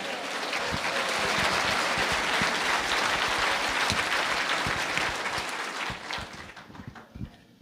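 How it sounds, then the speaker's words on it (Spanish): Loud, dense applause from a congregation at a religious gathering in praise of Jesus Christ, a thick wall of clapping that holds steady before thinning into scattered claps at the end. "fuerte aplausos a Cristo Jesús"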